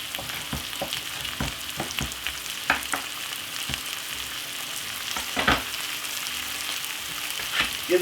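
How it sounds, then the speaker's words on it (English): Mixed peppers and vegetables frying in a pan for a chilli king prawn fry-up, a steady sizzle broken by repeated scraping clacks of a utensil stirring, close and continuous. "Give that a quick stir."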